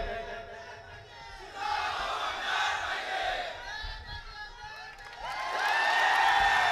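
Large crowd at an election rally for a Karjat-Khalapur candidate roars and shouts, a broad swelling cheer with whoops rising and falling, growing louder toward the end, with a voice calling over it.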